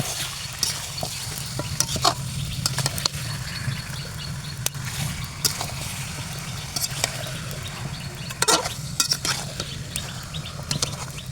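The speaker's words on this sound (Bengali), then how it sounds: "আমার এখানে মশলা কিছু কষাচ্ছি এটাতে আমি গোশ রান্না করব তারপর আমি দিয়ে দিলাম গোশগুলো" Meat frying with ground spice paste in a pot over a clay stove, with a continuous close sizzle broken by scraping stirs and light clinks of the spoon against the pot, and no talking.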